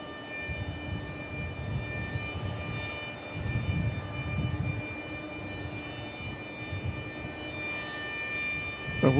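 A Japan Airlines Boeing 777 arriving from Haneda at DFW Airport on runway 13, a distant low engine rumble rising and falling over several seconds with a faint steady whine, no talking.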